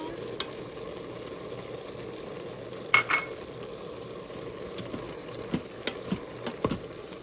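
Spices and cayenne pepper being stirred into keto gumbo in a pot make a soft, continuous simmering sizzle, with scattered light spoon taps and scrapes toward the end.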